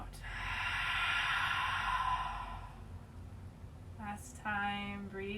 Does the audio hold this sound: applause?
no